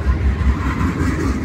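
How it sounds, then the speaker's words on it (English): Train rumbling past outdoors near a car lot, a loud, steady low roar with a faint rhythmic rolling throughout the brief moment. "Sorry about the train behind me."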